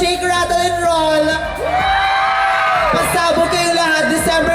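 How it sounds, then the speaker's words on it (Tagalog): A crowd at the Metro Manila Film Festival event in Makati shouts and cheers loudly for the Shake, Rattle & Roll Evil Origins cast, a close, dense roar of whoops and yells throughout. "Sumigaw lahat ng manonood ng Shake,"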